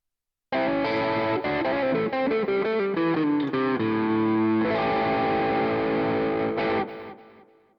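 Overdriven Tele-style Aklot electric guitar on split-coil pickups, with a slightly thinner tone, picks a melodic phrase of notes and held chords, loud and continuous before the final chord decays.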